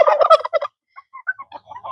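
A turkey gobbles in a rapid, loud burst near a pond, followed by softer scattered bird calls.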